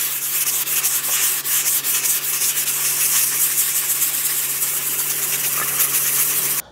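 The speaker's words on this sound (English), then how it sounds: "For me, I like to use these sanding blocks." A sanding block scrapes steadily over a drywall patch in continuous rough strokes, close and fairly loud, stopping abruptly at the end.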